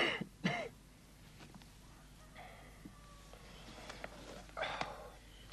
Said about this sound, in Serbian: Grdno mi kašlješ